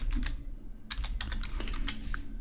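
Computer keyboard keys clatter in a quick, uneven burst of taps, close and fairly steady over a low background hum, with short pauses between clusters of keystrokes.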